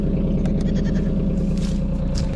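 Goats bleat on a farm near their winter house, several short cries sounding over a steady low rumble that runs throughout, with no talking.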